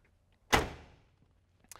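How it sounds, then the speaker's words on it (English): A single solid door of a 1968 Chevrolet Camaro SS-style car shuts with a heavy thunk that fades quickly, followed by a faint click moments later. "Both doors open and close with ease."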